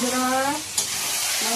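Goat meat frying in oil with ginger in a pan, a steady close sizzle with stirring, briefly under a voice at the start and end.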